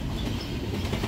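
A freight train carrying intermodal containers rolls past close by, a steady loud rumble with faint wheel clatter and no break over the short stretch.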